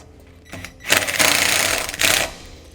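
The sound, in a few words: self-tapping screw driven through light bracket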